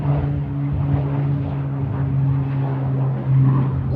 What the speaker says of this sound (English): Loads of power in these PC-12s